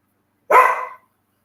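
A dog gives one short, loud bark close by, with silence before and after.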